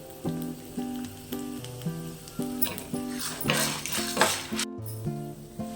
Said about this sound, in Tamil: ஒரு எலுமிச்சம் பழம் அளவு புளியை இது கூடயே சேர்த்து நம்ம வறுத்துக்கலாம்.